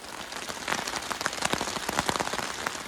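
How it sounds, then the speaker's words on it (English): Steady rain patters on a tarp shelter in woodland, a dense, even hiss of drops close overhead that continues throughout, with no voices. "you can probably hear the rain on the tarp and in the woodland"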